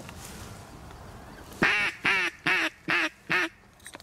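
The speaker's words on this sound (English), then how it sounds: "Mallards are back." A mallard duck gives a close, clear series of five loud quacks in quick succession, each one following about half a second after the last, over quiet outdoor background noise.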